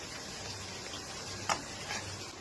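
Fish roe fritters fry in hot oil, giving a steady close hiss with a sharp crackle or pop partway through and a fainter spatter after it, with no talk.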